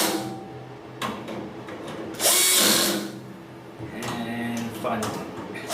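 A power drill drives screws into a Mastercraft base cabinet in a garage, giving short whirring bursts with one louder, higher spin in the middle, mixed with clicks and handling knocks close by.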